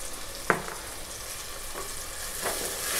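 Masala spices sautéing in hot oil for a prawn rice dish (kolambi bhat), a steady soft sizzle with a few scraping stirs of a spoon, close and alone.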